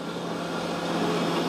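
A REX band saw set to medium speed cuts metal on its own, a steady close whir with a constant hum and grinding hiss that holds even throughout.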